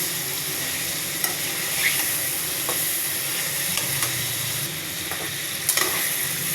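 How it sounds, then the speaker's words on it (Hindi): Garlic and ginger sizzle steadily in a hot pan, a dense continuous frying hiss with occasional small pops and stirring scrapes, close and fairly loud with no talking. "लहसुन अदरक भी तकरीबन फ्राई हो चुका"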